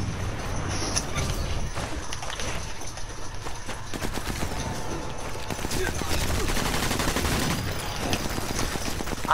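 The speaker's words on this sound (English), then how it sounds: "I'm trying to lay down some cover fire" Gunfire in the video game Sniper Elite 4, a busy stretch of rapid shots and bursts of automatic fire crackling over a noisy battle background, with a player's voice talking over it.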